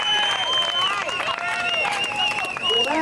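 An audience at a 2008 rodeo in California applauds and cheers, a steady wash of clapping and crowd noise with whistles and shouts rising over it.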